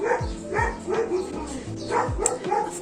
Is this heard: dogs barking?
yes